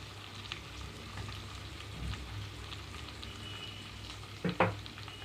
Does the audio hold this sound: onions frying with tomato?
yes